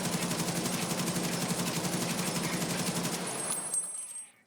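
Sustained automatic fire from an AK rifle fitted with a 60-round drum magazine in a video game, a loud, rapid continuous burst lasting several seconds before cutting off into a brief fading tail.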